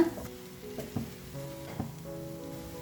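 Rava tossed with chat masala in a hot pan gives a quiet, steady sizzle broken by a few soft scraping stirs, with no voices.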